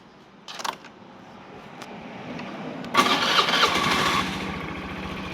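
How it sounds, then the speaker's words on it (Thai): A Honda Scoopy scooter engine cranks and catches, then settles into a steady close idle with no talk over it. "เดี๋ยวลอง สตาร์ทให้ดูนะครับ"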